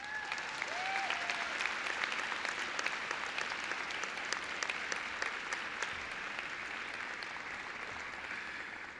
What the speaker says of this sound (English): So please, class of 2018, give your support network a big round of applause